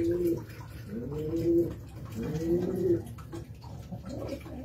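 Pigeons coo in a close, steady series of low, rolling calls, three or four clear phrases with short gaps, over faint background noise and no talking.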